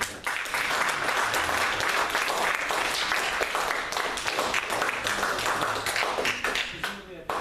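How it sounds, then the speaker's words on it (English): Sustained audience applause after speakers at a 2015 deer cull debate, dense steady clapping from a large crowd for several seconds that thins near the end. "another round of applause."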